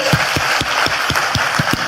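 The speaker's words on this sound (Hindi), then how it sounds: "जोरदार तालियां हम हमारे गेस्ट के लिए बजाएंगे।" A crowd at a network marketing business training event claps and applauds steadily, with a strong rhythmic beat of unison claps rising through the dense clapping.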